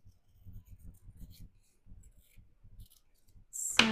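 Scissors snipping paper for craft backgrounds and fussy cuts in a glue book, a brief close, bright cut near the end after a stretch of low soft voice.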